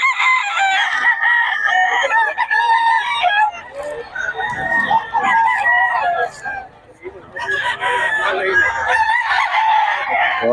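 Roosters crowing loudly and repeatedly at close range among clucking fowl at a gamefowl seller's yard, several overlapping long calls with short gaps, with people talking in the background.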